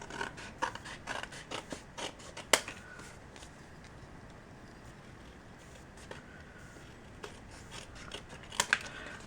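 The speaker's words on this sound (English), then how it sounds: "Then I'm going to go ahead and trim off the excess." Scissors trimming excess cardstock for a handmade birthday card, a run of short crisp snips and paper rustles close by, followed by quieter handling of the card.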